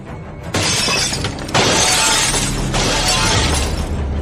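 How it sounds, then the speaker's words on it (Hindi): Car window glass shatters all at once, a loud sustained crash of breaking panes that surges again after a second and keeps crackling, close and alone without any voices. "और गाड़ी के चढ़े हुए शीशे ऐसे फूट गए जैसे हर शीशे पर हथौड़ी एक साथ मारी गई हो।"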